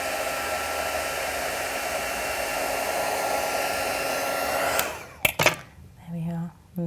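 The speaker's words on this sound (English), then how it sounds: "I'm going to take my heat gun again" A heat gun blows a steady, loud whooshing roar close by while warming glue on a craft tag, then cuts off near the end with a few clicks and handling noises.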